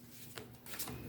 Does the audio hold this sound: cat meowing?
no